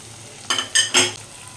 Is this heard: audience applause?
no